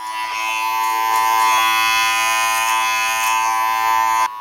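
Electric hair clippers fitted with a 1.5 guard buzz steadily and loudly up close while tapering the sides of a short haircut, a continuous humming drone with slight fluctuations.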